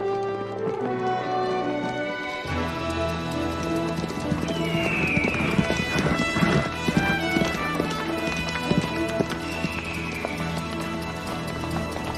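Hoofbeats of galloping horses clatter under a swelling orchestral score in a western film, with a horse whinnying briefly amid the rushing music.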